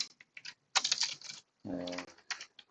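Typing on a computer keyboard while writing a SQL query, bursts of close, crisp key clicks in short uneven runs, with a brief spoken phrase in the middle.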